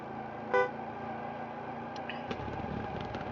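A car with a sport engine in the video game Drive Zone drones steadily after a short horn toot, then its tone shifts as it picks up speed, with no talk.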